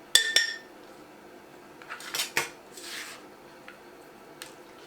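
Peppers drop into a fire cider jar with sharp glassy clinks and taps, a couple of quick knocks at the start, then scattered softer clatters and brushing sounds.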